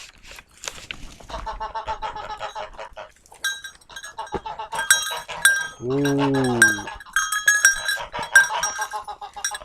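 Goats bleat several times close by, one long wavering cry standing out, among clinking bells and other farm noise, with a brief exclamation from a person.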